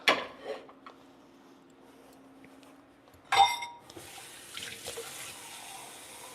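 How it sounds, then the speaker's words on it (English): Water runs from a kitchen tap into a pot on the stove, a faint trickle followed by a louder gush and some light clatter of cookware, close by and quiet overall. "add 1 cup of water to let it boil"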